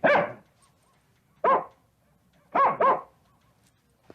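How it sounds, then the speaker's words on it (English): A half-deaf dog barks four times nearby in sharp, loud bursts: one bark, a pause, another, then a quick double, with silence between them. "you're the best dog a man ever had"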